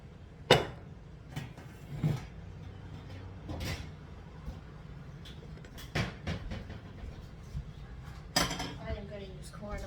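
A small metal frying pan clanks and clatters in sharp, irregular knocks in a kitchen, some loud and close, with softer bumps and scrapes between them.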